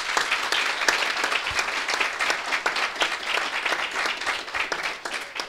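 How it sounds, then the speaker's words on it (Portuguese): An audience at a sports law event applauds the support staff with continuous, fairly close clapping that holds steady throughout and tapers slightly at the end. "vamos aplaudir o pessoal de apoio"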